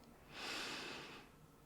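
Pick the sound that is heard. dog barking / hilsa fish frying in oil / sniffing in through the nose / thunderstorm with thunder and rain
sniffing in through the nose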